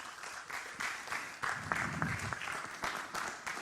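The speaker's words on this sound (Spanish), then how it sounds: "Póngase de pie, denle un aplauso al Señor." Church congregation applauding, scattered clapping building in bursts, moderately distant and soft, with a voice rising briefly under the applause.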